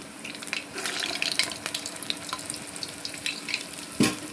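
Small urad dal vada batter balls fry in hot oil, a close, bubbling sizzle with scattered crackles and a brief louder splash near the end.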